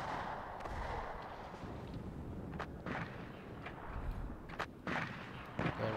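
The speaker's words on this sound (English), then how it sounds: "Yeah, my artillery's firing it now." Artillery fires in the video game Warno: deep, rumbling booms with several sharp blasts spaced a second or so apart over a constant low battlefield roar, fairly loud and without talk.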